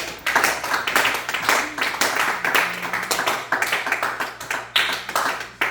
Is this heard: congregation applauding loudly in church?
yes